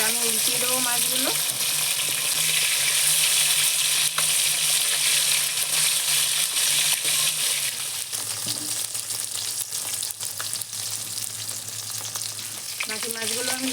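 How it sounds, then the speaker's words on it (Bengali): Silver carp fish sizzles loudly in hot oil and is turned over in the pan. The close, steady frying hiss carries through, with scraping and stirring noises as the pieces are flipped. "আমার এক পিঠ ভাজা হয়ে গেছে, এবার আমি উল্টিয়ে দেবো মাছগুলো"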